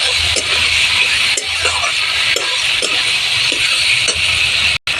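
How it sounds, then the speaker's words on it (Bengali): Ginger-garlic and cumin-coriander paste sautéing in a hot pan gives a loud, steady sizzle, broken by regular scraping strokes of a spatula stirring through it. "এবারে দেবো আদা রসুন বাটা, আর এখানে আছে জিরে ধনে বাটা দিয়ে কষে নেব"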